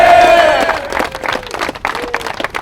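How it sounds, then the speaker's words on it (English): A crowd claps and cheers for a high school football player who survived a stroke, dense clapping with whistles and scattered shouts rising and falling. "Let's give him a big round of applause."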